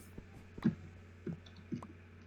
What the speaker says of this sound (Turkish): Şimdi benim klavyemin sesi patlayacak